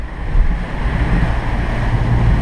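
Strong wind of about 26 knots and heavy surf roar continuously around a sailboat heading for Martinique in Caribbean swell, a loud, steady rush with no voices.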